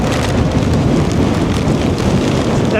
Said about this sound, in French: C'est de la pluie ou c'est de la grêle?